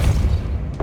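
Depulso spell blast in Hogwarts Legacy, one heavy low boom with a thudding impact that decays quickly, followed by a faint brief crackle at the end.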